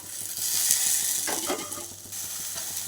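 Washed coriander leaves with rock salt are stirred in a frying pan, giving a soft steady sizzle and a few scraping stirs near the middle, over a faint mechanical hum.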